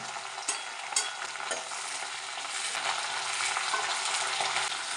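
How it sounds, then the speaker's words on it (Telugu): Curry leaf sprigs fry in hot oil for a tribal village-style chutney, giving a steady, loud broadband sizzle with a few crackling pops and stirring scrapes near the start. "కరివేపాకు రెబ్బలు ఇప్పుడు వేపుతున్నాం"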